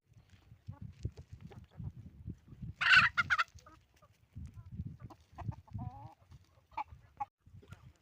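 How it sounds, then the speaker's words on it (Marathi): Free-range village chickens cluck softly and repeatedly nearby while foraging, with one louder squawking burst partway through, in an otherwise quiet outdoor setting. "इकडे तिकडे आपल्या कोंबड्या चरत आहेत"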